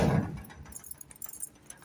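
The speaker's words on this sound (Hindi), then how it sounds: "हमारी चाबी नहीं लग रही, ये देखें जी" House keys jangle and clink at a gate lock outdoors, a brief close rattle that fades into quieter scattered metallic taps.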